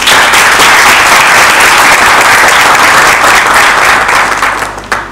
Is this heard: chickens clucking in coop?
no